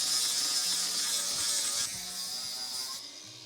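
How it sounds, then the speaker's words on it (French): An angle grinder fitted with a wood abrasive disc flattens a wooden board, a continuous high buzzing whine with a gritty scraping edge that eases off partway through, close by and without talk. "Moi j'ai qu'une meuleuse, donc j'utilise ma meuleuse."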